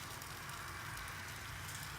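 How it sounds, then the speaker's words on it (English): Rain falling outside on a cold day of about 35 degrees, a steady soft hiss of drops on surfaces, fairly faint and continuous with no talking. "It's actually raining."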